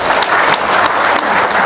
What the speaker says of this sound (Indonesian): Sik, tepuk tangan dong, Lampung.